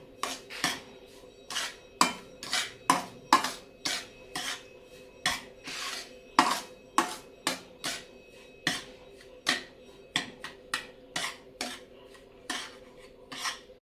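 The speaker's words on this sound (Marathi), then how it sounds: "ह्याच्यामध्येच मी थोडी विलायची पावडर टाकणार आहे ती आपण एकत्र चांगलं मिक्स करून घेऊया" A spoon scrapes rhythmically through a dry semolina laddu mixture in a metal pan as cardamom powder is mixed in, about two dozen close, raspy strokes with short pauses between them, alone without talking.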